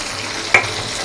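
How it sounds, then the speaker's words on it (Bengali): Chopped onion, tomato and green chilli sizzle steadily in hot oil for a home-style chicken curry, with one sharp spatula scrape near the middle, close and fairly loud. "পেঁয়াজটা ভালো করে বাদামি করে ভেজে নিয়ে তারপর দিয়ে দেব টমেটো কুচি, তারপরে কাঁচামরিচ কুচি"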